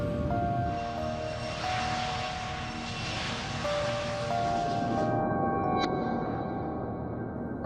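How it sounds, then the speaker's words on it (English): A British Airways airliner departs Birmingham, England, its engines giving a sustained loud roar with whining tones that cuts off abruptly near the end. "British Airways Flight 5390 is leaving Birmingham, England for Spain."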